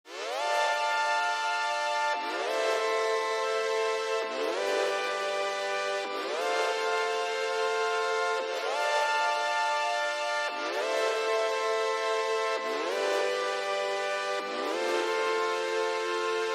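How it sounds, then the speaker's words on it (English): A bright analog synthesizer plays an 80s synth-pop style repeating melodic phrase with sustained, harmonically rich notes and gliding pitch changes, steady and loud throughout with no voices. "I added this synth sound from Analog Lab, and it sounds like this."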